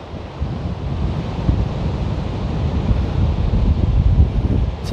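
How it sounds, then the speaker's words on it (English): Ocean surf breaking at night on a San Francisco beach about 50 to 100 feet away, a steady low rumbling wash with wind buffeting the microphone, no talking. "the waves are about 50 to 100 feet in front of me"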